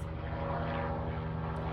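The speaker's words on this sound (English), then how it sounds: "there is a helicopter that's about to pass" A helicopter passing overhead near an airport, a loud continuous rotor and engine drone with a steady tonal hum that fills the whole moment.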